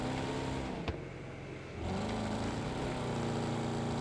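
Monster car engine in Wreckfest 2, an off-road vehicle rumbling at a steady drone, briefly dipping after a sharp knock, then revving back up loudly and holding a strained, sustained roar.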